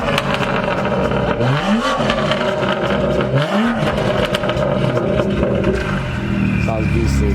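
A straight-piped BMW M2 with a Stage 1 tune revs and burbles loudly up close, with two rising rev sweeps and crackling exhaust pops, while people talk over it.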